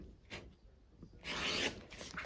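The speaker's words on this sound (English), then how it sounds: "Now we are going to cut on that line, okay? And you can use a rotary cutter or scissors." Fabric is cut along a marked line with a rotary cutter or scissors for a quilt block, giving soft scraping, rasping strokes, one brief pass and then a louder, longer rough swipe, close and without talking.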